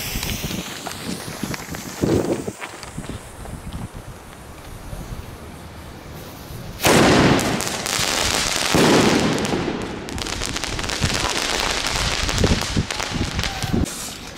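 A Thunder Crown 60-shot firework cake fires a rapid barrage of loud bursts on New Year's Eve, crackling continuously for several seconds after some quieter pops and wind noise.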